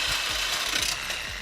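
A reciprocating saw cuts into a car bumper with a steady, rhythmic rasping stroke, close and loud, repeating several times a second without any talking.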